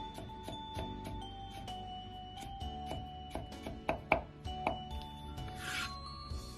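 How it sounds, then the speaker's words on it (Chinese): A knife chopping ginger on a cutting board, first into fine shreds and then minced, giving a steady run of close, crisp taps that cluster into several sharper, louder hits near the end. "少许的生姜主要是增加一些辛香味，先切成细丝，再改刀切碎。"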